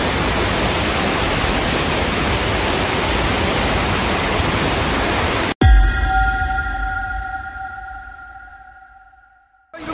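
Heavy tropical rain in Bangkok pours as a loud, steady hiss for over five seconds, then breaks off into a quieter, fading background with faint tonal hum.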